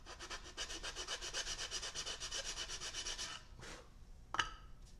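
Rhythmic back-and-forth rasping of sandpaper on the heel of a wooden instrument neck, steady strokes close by for about three seconds, then a pause and a sharp knock.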